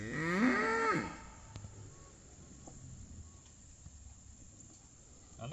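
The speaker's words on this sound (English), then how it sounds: "Oh, these spoiled cows." A cow moos loudly and close in the first second, its call rising and falling, followed by a quiet farmyard stretch with crickets and faint insect chirps in the background.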